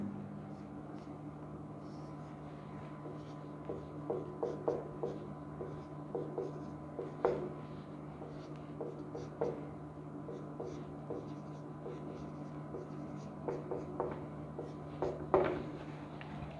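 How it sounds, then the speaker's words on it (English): Pen or chalk scratching out a line of a group-theory proof, a run of short scraping strokes and taps in irregular bursts over a steady background hum, close and moderately quiet, with no talking. "So we can write one more line and have this."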